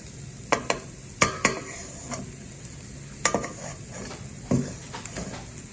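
A spoon stirs roasted vermicelli kheer simmering in a pot, its scrapes and knocks against the metal landing in irregular bursts over a gentle bubbling sizzle.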